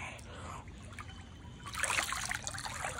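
Water sloshing and splashing in a swimming pool during a pool party, with a muffled underwater wash that turns louder and brighter halfway through as the surface is broken, continuous throughout.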